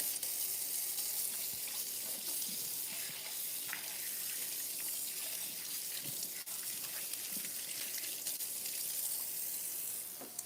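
Tap water runs steadily into a kitchen pot being filled to boil for mashed potatoes, a constant hissing gush with small clinks and knocks scattered throughout, moderately close.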